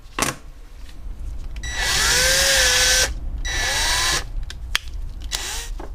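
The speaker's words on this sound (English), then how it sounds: "so I'm going to drill a 6mm hole into the plug." A power drill bores a 6mm hole into a plastic plug during a Megasquirt install on an NA Miata, whining up in two loud bursts of a second or so each, with the pitch rising as the motor spins up, close to the listener.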